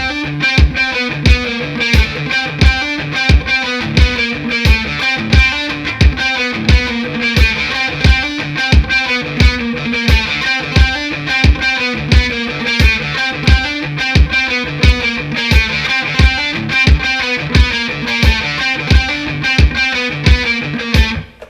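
A heavily distorted electric guitar chugs a repeating riff over a metronome, steady driving rhythm with sharp regular pulses throughout, loud and close.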